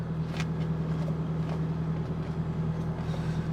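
A Nissan S15 Silvia idles in first gear with the whole car shaking, giving a steady low engine drone and rumble heard from inside the cabin, with no talking.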